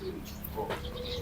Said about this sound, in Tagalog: ang dami niyo pala po ditong ibon